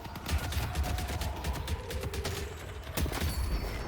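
Gunfire from the video game Deadlock comes as rapid, rhythmic bursts of low thumps and clatter at moderate volume, with a short break before the firing picks up again. No speech.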